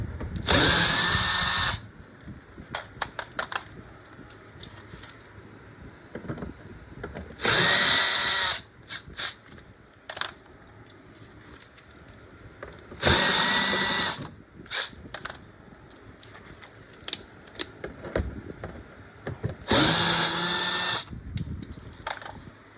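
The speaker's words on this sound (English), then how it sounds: "you're gonna come in the wheel well, and you've got 4 T15 screws to remove" Four separate bursts of a power driver, each a couple of seconds long, loosening T15 screws in the wheel well of a 2014-2019 Cadillac CTS. Quieter clicks and rattles of handling fall between the bursts.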